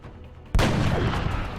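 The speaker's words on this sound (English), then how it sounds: "So that's an Overwatch shot." An overwatch sniper shot in the XCOM video game, a single sharp, loud gunshot that cracks suddenly and leaves a broad, sustained rumbling tail.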